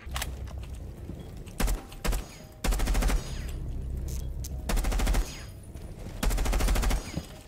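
Automatic gunfire from Jackal's weapon in the video game Rainbow Six Siege, heard as several loud, rapid bursts separated by short gaps, with quieter mechanical clicks and handling noises between them.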